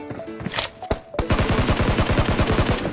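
Rapid automatic gunfire in the video game PUBG, a loud close burst of evenly spaced shots rattling off in a fast rhythm after a couple of isolated cracks.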